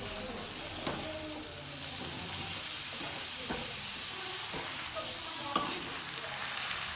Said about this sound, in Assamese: লাই শাক দিলোঁ এতিয়াহে এতিয়া হ'ব মজা লৰাই দিলোঁ